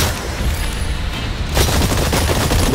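Dense, continuous gunfire aimed at targets in the video game Exoprimal, a steady crackling barrage that swells louder partway through and keeps going to the end.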